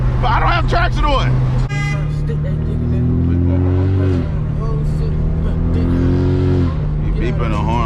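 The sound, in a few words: car horn beeping behind the BMW 335i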